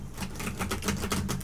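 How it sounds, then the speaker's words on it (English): Tarot cards shuffled in quick, crisp riffling bursts, repeating about every fifth of a second, close and steady with a low hum underneath. "while I'm shuffling my cards"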